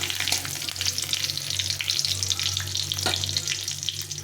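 Cumin seeds and bay leaves sizzle steadily in hot oil in a pan, a close, even frying hiss with soft scraping as they are stirred.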